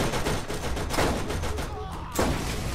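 Rapid turret gunfire in the video game Borderlands 1, a dense, loud stream of overlapping shots that runs almost continuously before a short gap and a final burst.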